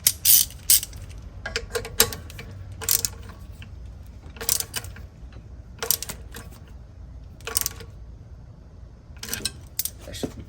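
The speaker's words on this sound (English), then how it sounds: "Where is my ratchet?" Ratchet tightening spark plugs on a 2007 Porsche 997 Turbo, giving short bursts of sharp close clicking separated by quiet gaps, repeated about six times.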